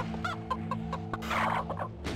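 Chicken clucking from the video game Brutal Heretic: a run of short, evenly spaced clucks over a steady low hum, ending in a busier, squawky flurry. No one speaks.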